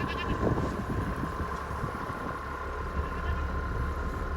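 Several goats on a farm call out excitedly while running toward a hay bale being unrolled, their bleats rising from steady livestock and engine noise in the background.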